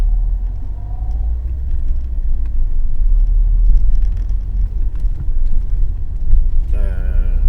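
A car driving, heard from inside as a steady, loud low rumble of engine and road noise throughout, with a brief higher warbling tone right at the end.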